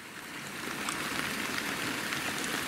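Heavy rain lashes a tent at a wild camp in a valley at night, a thick, constant hiss of drops drumming on the fabric, close and unbroken with no speech.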